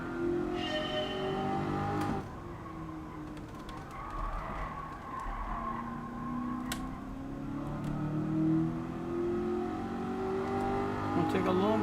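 An engine in Gran Turismo 7 revs and climbs through gears, a droning tone rising and falling over several pulls under a constant mechanical hum, with a voice talking over it.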